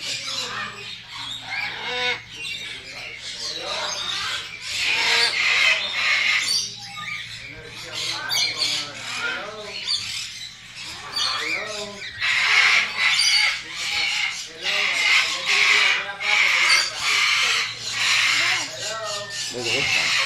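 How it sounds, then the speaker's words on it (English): Cockatoos and other caged birds squawk and screech almost nonstop inside a pet store, loud and close, with bursts of shrill calls overlapping throughout and people speaking among them. "But these cockatoos are real nice and friendly."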